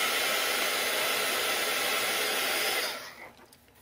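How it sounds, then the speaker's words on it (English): A heat gun blows a loud, steady rushing hiss while warming wax oil pastels on an art journal page, then switches off and winds down at the end. "it's easier with the heat gun just to get them a little bit started"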